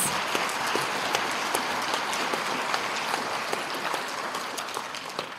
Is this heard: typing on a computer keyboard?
no